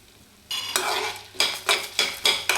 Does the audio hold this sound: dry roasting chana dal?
yes